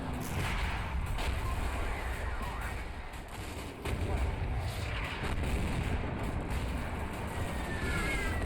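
Artillery barrage in the war video game Combat Mission Shock Force 2, Syrian shells landing around an observation post: a dense, continuous rumble of booming explosions, loud and sustained with a brief dip midway.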